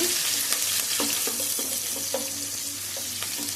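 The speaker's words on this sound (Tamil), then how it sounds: "நல்லா வந்து வெங்காயம் வதக்கட்டும் நம்ம வந்து கருவேப்பிலை ஒரு கொத்து கருவேப்பிலை சேர்த்துக்கிட்டோம்" Onions, green chili and curry leaves sauté in a pan for bonda kulambu, a steady close sizzle broken by repeated scraping stirs of a spoon against the pan, with no voices.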